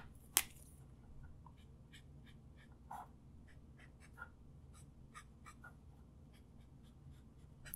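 Markers coloring on paper, making a steady series of soft, close squeaky strokes and scratches in a quiet room, with one sharper tap near the start.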